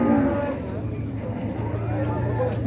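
A dairy cow at a cattle market in Dois Riachos, Alagoas, lets out a long, low moo close by, with a faint murmur of voices in the background.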